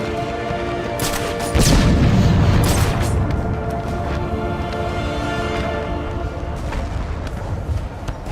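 A heavy explosion in the video game Batman Arkham City, a loud deep boom that bursts out and rolls off into a rumbling tail over a sustained low background.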